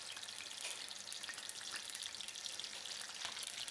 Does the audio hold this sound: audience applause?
no